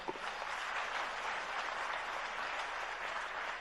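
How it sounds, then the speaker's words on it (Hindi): Audience applause at a Jain religious discourse in Damoh, a dense, steady wash of many hands clapping at even loudness throughout, with no talking over it. "अपने सम्मान में थोड़ी तालियां बजाओ"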